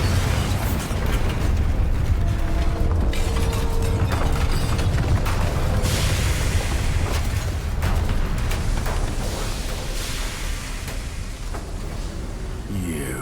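Bombarda spell blasts in the video game Hogwarts Legacy: loud, dense booming explosions and crackling debris layered over game music and effects, continuous and heavy throughout.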